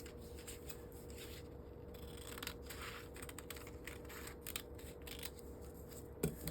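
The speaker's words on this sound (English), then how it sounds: "we're going to cut through these dart tips" Scissors snip through a paper skirt pattern at the dart tips with faint, quiet cuts and a light papery rustle, no voices.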